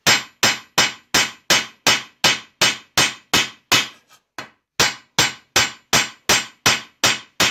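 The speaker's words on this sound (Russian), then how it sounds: "Опять меняем угол удара молотка и пошли." A hammer flanges the edge of sheet tin for a three-part duct elbow, striking in a steady, evenly spaced run of loud, sharp metallic blows with one brief pause partway through.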